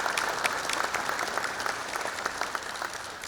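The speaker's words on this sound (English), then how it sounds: "I wanted to please get a round of applause for Mr. Bob Schmidt for the rendition of the national anthem." An audience applauds a national anthem singer at a military change of command ceremony, steady dense clapping from a crowd, fairly loud and continuous throughout with no talking over it.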